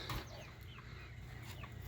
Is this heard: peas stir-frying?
no